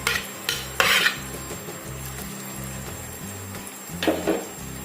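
Onion and cloves stirred with a metal spoon in hair oil heating in a pan over a low flame, a repeated scraping, clinking stir over a soft steady sizzle.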